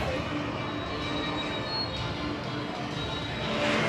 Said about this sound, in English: Lou, you excited to experience the Ghost Train with no VR?